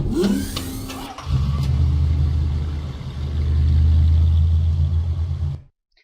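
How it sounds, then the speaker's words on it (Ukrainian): A red car's engine starts and the car drives out of a garage, making a loud steady rumble that swells, holds and then cuts off abruptly, with a few sharper sounds at the start. "Виїхала червона машина."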